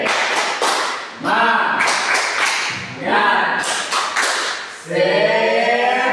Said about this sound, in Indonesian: Oke, kita semua tepuk semangat ya.